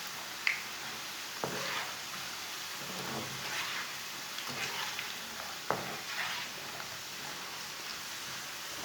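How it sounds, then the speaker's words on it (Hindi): Raw banana fries cook in oil over medium heat, a soft continuous frying hiss broken by a few light clicks as pieces are turned, fairly quiet and close, no talking. "ऐसे इसे उल्टाते हुए पका लेंगे। इसे जलने नहीं देना, मीडियम आंच पर इसे ब्राउन करना है।"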